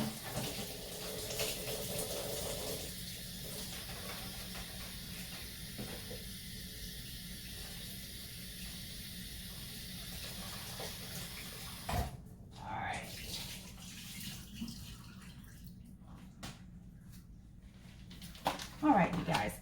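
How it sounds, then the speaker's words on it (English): Scallops are rinsed under a running kitchen tap, a steady close hiss of water that shifts and breaks up as the flow moves, ending with a few clattering handling sounds. "I'm just going to give these scallops one more good rinse"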